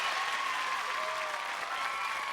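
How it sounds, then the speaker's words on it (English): Studio audience on Family Feud in 1991 clapping for divorced ex-wives contestants, a short burst of dense, even applause with faint cheering mixed in. "we're going to say hello with an enthusiastic round of applause for our lovely ex-wives"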